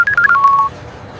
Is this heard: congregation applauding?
no